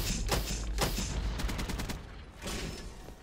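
Rapid bursts of gunfire in the shooter game Call of Duty: Black Ops III, with several loud shots and a quick automatic volley in the middle, dense and close, with no talk over it.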